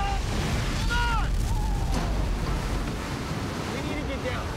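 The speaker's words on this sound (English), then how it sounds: "the crew started to notice just how big these waves were getting" Heavy ocean waves pound a crab fishing boat at sea, a loud continuous roar of surf and wind buffeting the deck, with indistinct voices and shouts partly heard over the din.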